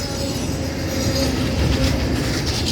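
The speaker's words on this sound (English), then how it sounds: "you can hear the train slowing down as it reaches the big curve" An FECR freight train rumbles steadily as it slows into a big curve, with a continuous low roar and faint squealing wheels, no talk over it.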